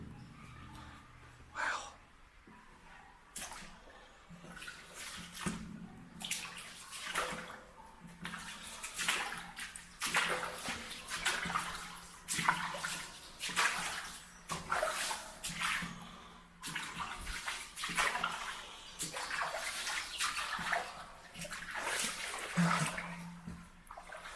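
Water flows and splashes steadily through a brick Victorian culvert in Leicestershire, a continuous rushing wash with echoing surges, heard close alongside some breathing.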